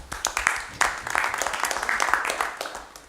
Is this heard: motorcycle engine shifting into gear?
no